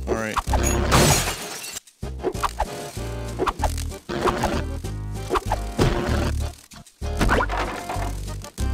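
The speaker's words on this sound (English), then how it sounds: "Stock broken glass sound effects." Stock glass-breaking effects from the video game GTA IV, with repeated loud shattering crashes in rapid succession over a busy game soundscape, broken by a few brief gaps.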